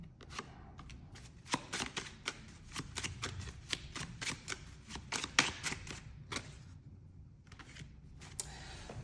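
Tarot cards being shuffled by hand in a steady run of crisp, riffling bursts with short pauses between, close and clear with no talking over them.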